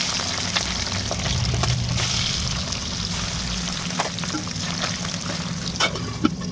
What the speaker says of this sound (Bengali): প্রথমে ট্যাংরা মাছগুলো নুন হলুদ মাখিয়ে এক করে ভেজে নেব।